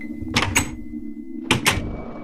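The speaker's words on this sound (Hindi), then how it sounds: "ड्राइवर ने हिम्मत करके दरवाजे की सांकल खटखटाई।" Knocking on a door fastened with a chain latch: two pairs of sharp metallic raps, close and distinct, over a steady low hum.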